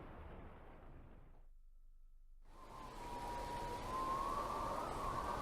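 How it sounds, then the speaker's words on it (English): Steady roar of heavy rain and wind from a thunderstorm in the video game The Lion's Song drops away briefly, then returns louder, with a rising whistling gust. "The storm booms overhead. The rain and the wind are so loud."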